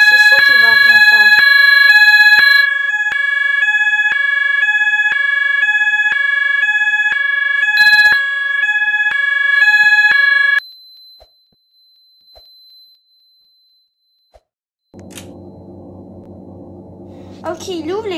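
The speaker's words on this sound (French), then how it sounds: "merci d'activer l'alarme d'incendie" A fire alarm sounds at a level crossing, loud repeating electronic tones in a steady pattern for about ten seconds, then cutting out; near the end a lower-pitched horn or siren comes in.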